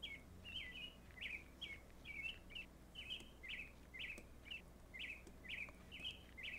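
Birds sing at sunrise in a summer video game, a string of quick bright chirps repeating in a steady rhythm over a faint low hum, with no talking.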